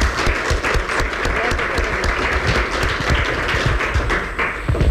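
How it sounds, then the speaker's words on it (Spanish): A conference audience applauds, producing loud, dense, continuous clapping from many hands that lasts throughout. "Marilyn Gonzalo, vamos a darle un aplauso que se lo merece"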